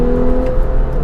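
A Porsche 911 991.1 Targa 4S with its naturally aspirated engine hums steadily from inside the cabin, a smooth even drone at a constant pitch, loud and alone for about a second.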